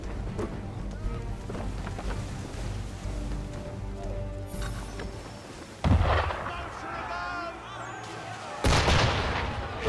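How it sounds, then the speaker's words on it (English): Sailing-ship cannons fire in Assassin's Creed 3 Remastered with sharp, booming blasts, two heavy shots standing out against a busy background of game sound and voices. "Why is he shooting at us?"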